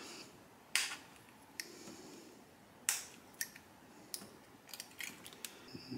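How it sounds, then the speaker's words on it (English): A utility knife scrapes and nicks plastic tabs off a GoPro Hero 9 screen assembly, giving faint, sharp clicks and scratches at irregular intervals over a quiet background. "You can either do it with an X-Acto or a utility knife. Just kind of scrape at them."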